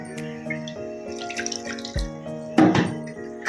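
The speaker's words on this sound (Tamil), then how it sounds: "இன்னும் கொஞ்சம் தண்ணி." Water splashes and gurgles as it is poured into a pot of chicken gravy, a brief gush near the end over a background of humming kitchen tones.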